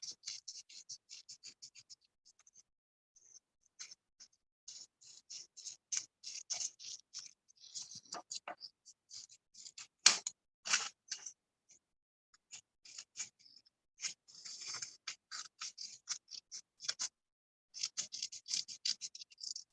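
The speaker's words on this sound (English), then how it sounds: "So let me cut out the circle." Scissors snip around a paper circle for a kids' paper pichkari craft, making quiet, close, irregular cutting clicks and scratches over about twenty seconds with short pauses and no talk.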